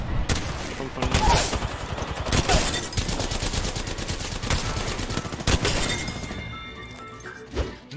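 Hipfire gunfire in Apex Legends rattles in dense, loud, continuous bursts with sharp cracks and impacts, near and intense, thinning out near the end.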